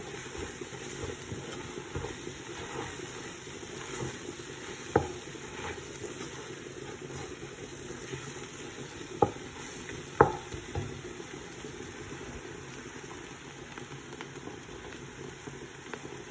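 Chicken fries in a spiced masala in a pan with a low, soft, steady sizzle, a few sharp clinks of a utensil standing out over the quiet bubbling hiss, and no talk.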